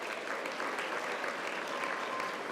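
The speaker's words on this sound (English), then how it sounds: "Let's give them a round of applause for joining us." Steady, even applause from a large audience at an awards ceremony honoring council members and dignitaries, a continuous wash of clapping with no voices standing out.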